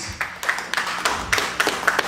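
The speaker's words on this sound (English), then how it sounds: "Give her a nice round of applause." A small audience at a magic and stage hypnosis show claps in scattered, uneven bursts, the individual claps distinct and fairly close rather than a dense roar.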